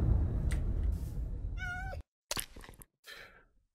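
A cat in the video game Minecraft meows once with a clear, wavering cry, followed by brief rustling game sounds and short gaps of silence.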